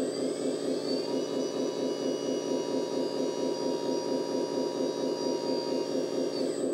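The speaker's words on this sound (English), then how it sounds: "So I will start pump, giving a little bit more power" A hydraulic pump runs on an RC 10x10 roll-on/off dumper truck with crane, a steady whining hum with a high tonal whine held level for several seconds, unbroken and moderately quiet.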